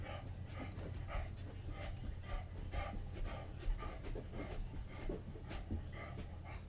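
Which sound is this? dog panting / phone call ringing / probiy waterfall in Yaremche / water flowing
dog panting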